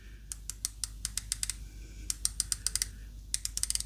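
Sharp clicks from the bi-directional bezel of a Pagani Design PD1649 watch, a fast, loud, close run of separate ratcheting ticks in three bursts, with no talk.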